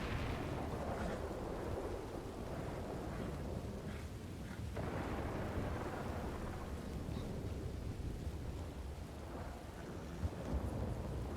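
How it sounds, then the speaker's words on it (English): A video game thunderstorm rumbles loudly and continuously, deep rolling thunder with steady rain underneath, swelling in a few heavy peaks and never letting up. "One thing for sure though, the thunderstorms here, they are very fucking loud."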